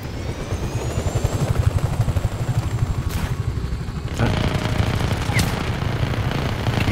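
Rapid gunfire bursts in Just Cause 3, a rattling, chopping stream of shots over a low rumble, with a sharp crack partway through and the firing continuing loudly to the end.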